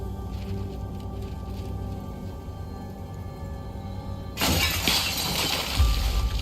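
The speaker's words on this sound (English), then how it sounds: "The fish tank shatters into a million pieces, sending glass shards flying" A fish tank is smashed in the Life Makeover video game, a sudden loud burst of shattering glass with scattering shards after a quieter stretch of ambient music.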